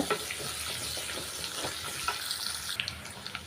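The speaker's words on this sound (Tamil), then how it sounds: "வெங்காயம் பாருங்கள் நல்லா புன்னிறமாக நல்லா வ வதங்கிருச்சுங்க" Onions sautéing in oil in a pan for a spicy tamarind curry, a continuous busy sizzle with occasional stirring scrapes and small pops, close and steady with no speech.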